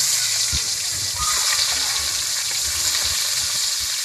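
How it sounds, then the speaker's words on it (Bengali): Onion paste frying in a pan for a spicy snail curry, a continuous close sizzle with soft low bumps and stirring sounds running underneath. "তারপরে আমি দিয়ে দেব পেঁয়াজ বাটা।"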